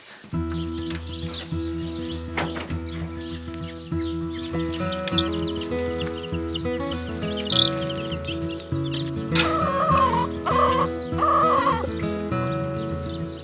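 Chickens cluck and squawk close by, several birds overlapping in busy, uneven bursts, with a tonal musical backdrop running underneath.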